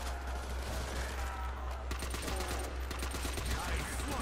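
Rapid gunfire in the Der Riese zombies map of Call of Duty: World at War, a dense burst of shots over a steady low background, with players talking under it.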